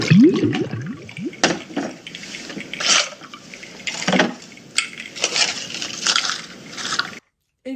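Water poured and splashing in a TV comedy-horror scene, a run of irregular liquid splashes and gurgles at close range, sounding in uneven bursts with a short silent gap at the very end.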